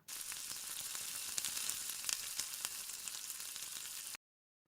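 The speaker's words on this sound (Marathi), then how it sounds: "आता हे सगळं साहित्य आपण तेलामध्ये टाकूया आणि एखाद मिनिट आपण हे तेलामध्ये छानपैकी फुलू देऊया" Whole spices, cloves, black pepper and cumin, frying in hot oil for dhaba-style chicken, a continuous dense crackling sizzle with small pops, close and steady, then cutting off abruptly, with no talking.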